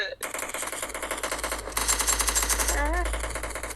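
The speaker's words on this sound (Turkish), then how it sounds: "Adama bir tane kurşun attım oğlum" Rapid automatic gunfire in the PUBG Mobile video game rattles in dense bursts, loud and continuous, with a player talking over it.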